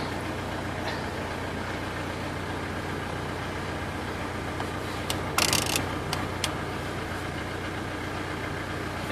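A Mitsubishi Pajero engine idles steadily throughout, a continuous mid-pitched hum with faint knocking texture, recorded up close during a used-car inspection in Utena, Lithuania, with a brief clatter of other noise midway.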